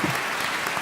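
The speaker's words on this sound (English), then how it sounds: "let's Thank give you, Master so a kind. warm applause" Warm audience applause at a poetry book launch celebration, a dense steady wash of many hands clapping, brief and moderately loud with no distinct voices.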